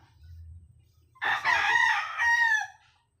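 A rooster crows once, loud and close, a long drawn-out cock-a-doodle-doo at a small poultry farm, with faint low rumble and clucking before it.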